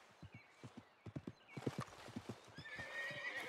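Horse hooves clip-clop in a steady, close rhythm in Red Dead Redemption 2, with a whinny near the end and faint ambient noise beneath.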